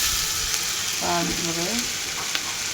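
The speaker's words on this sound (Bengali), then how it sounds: "এর মধ্যে আমি রসুন বাটা দিয়ে দিচ্ছি" Garlic paste frying with onions in a pan, a steady close sizzle running throughout while a person speaks briefly over it.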